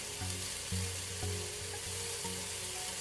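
Banana pancakes sizzle steadily on a hot griddle, a close, continuous frying crackle with soft low pulses underneath and no talk.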